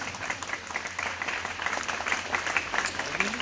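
A crowd at a school admission ceremony claps steadily at moderate volume, a continuous patter of many hands that carries through the whole stretch with no break.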